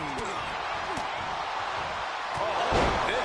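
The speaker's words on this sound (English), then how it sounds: "what a headbutt" A headbutt lands in a WWE 2K24 cage match, a short slam-like thud cutting through steady crowd roar while a commentator talks over the action.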